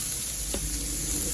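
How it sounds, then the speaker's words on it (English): Onions and jalapenos frying in a pan give a steady, close sizzling hiss throughout, with a faint stirring scrape partway through and no voices. "here I am adding the rest of those onions and jalapenos. And they are frying up nice. They're starting to sizzle."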